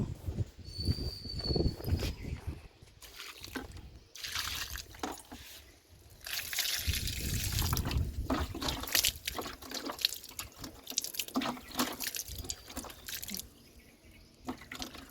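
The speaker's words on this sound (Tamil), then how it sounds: "அதுக்கு கொஞ்சம் தண்ணி ஊற்றிடுவோமா" Water poured onto a potted rose plant at home, a close, quiet stream of splashing and trickling that comes in several pours with short pauses between them.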